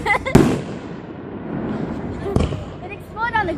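Fireworks and firecrackers bang in two sharp nearby reports about two seconds apart, with crackling between them and people talking throughout.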